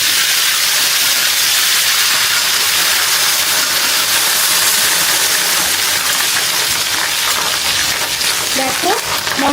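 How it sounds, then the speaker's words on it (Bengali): Whole spices for a garlic pickle tempering hiss and sizzle loudly in hot oil, a steady close crackle that holds for several seconds with faint stirring near the end. "এই পর্যায়ে কিন্তু আমি এখন দিয়ে দেব ধুয়ে রাখা ফোড়নের জন্য যে মশলাটা আমি রেখেছিলাম"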